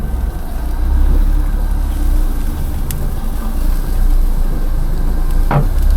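A Daihatsu Hijet S110P mini truck's engine drones steadily as it labours up a muddy off-road hill, a continuous loud low rumble with wind noise and a brief sharper clunk near the end.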